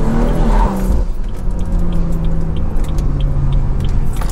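A Stage 2 BMW 340i with the B58 engine, catless downpipe and anti-lag runs with a steady low exhaust rumble and a brief throttle swell at the start, close and fairly loud.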